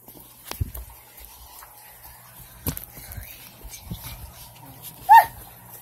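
A dog gives faint, scattered whimpers and small yips against a quiet indoor background. A brief, sharper whine near the end stands out louder than the rest.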